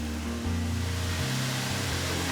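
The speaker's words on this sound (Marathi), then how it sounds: "सकाळी गावापासून जवळच एक धबधबा बघायला गेलो." A monsoon waterfall near Pachnai village in the Harishchandragad range gives a steady, dense roar of falling water, close and continuous, with no voices.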